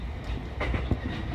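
A Tokyo Yamanote Line commuter train on the outer loop runs with a steady, close rumble, with a couple of brief clacks and knocks rising above the continuous rolling noise.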